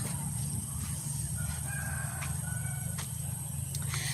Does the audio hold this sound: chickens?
yes